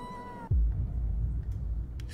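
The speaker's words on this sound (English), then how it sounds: "Kitty cat!" A cat meows once in the video game Tokyo Dark, a short tonal cry heard alone, followed by a dull low thump and a quiet ambient background.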